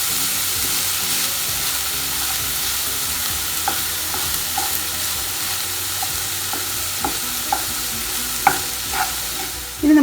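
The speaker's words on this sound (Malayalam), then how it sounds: "അതിനുശേഷം നന്നായൊന്ന് വഴറ്റി യോജിപ്പിക്കാം." Chopped onion with salt being sautéed in a pan, a continuous loud frying sizzle broken by repeated scraping stirs of a spoon, growing busier toward the end, with no one talking.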